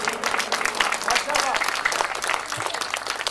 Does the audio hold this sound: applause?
yes